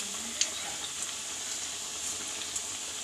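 Steady sizzling of onion vada (ullivada) frying in a shallow amount of oil, a continuous bright crackle with small pops, close and alone.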